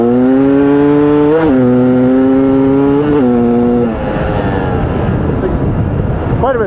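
A Beta Xtrainer dirt bike engine revs up through a couple of rising pulls, then settles into a rougher, broadband roar as it accelerates away, loud and close throughout.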